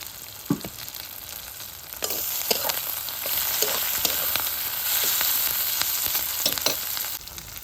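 Chicken being stirred in a pan with a paste of turmeric, cumin, coriander and chili powder soaked in water, for chicken kasa: a steady sizzle with repeated scraping stir strokes close by, rising louder after the first couple of seconds, with no talk.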